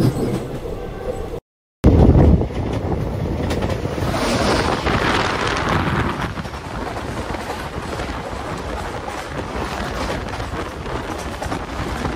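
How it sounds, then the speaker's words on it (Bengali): The Rajdhani Express rushes past close by at over 100 km/h, a loud sustained roar and rattle of rail cars with wind buffeting, briefly cut out near the start. "রাজধানী এক্সপ্রেস ক্রস করছে।"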